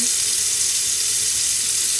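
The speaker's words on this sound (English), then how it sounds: "I rinse my rice off with cold water." Cold tap water pouring steadily while rice is rinsed, a loud, continuous hiss of running water with no talking.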